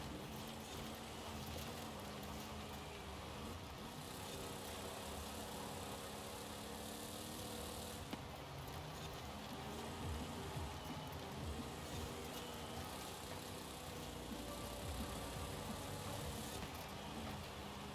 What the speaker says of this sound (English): This engine is proving to be pretty good though, because of how high it can rev and just stay up there and not lose power.